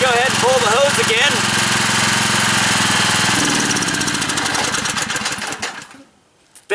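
A small generator engine fueled by smoke gas from a wood stove chugs loudly and steadily up close, its rapid knocking rhythm sputtering and dying out near the end, with a brief voice at the start.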